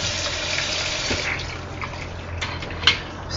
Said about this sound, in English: So let me get this water